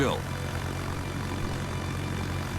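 Propeller aircraft engine drone in a naval combat video game featuring the carrier Essex, a steady humming buzz held throughout under a continuous low background, with a brief sweeping tone at the very start.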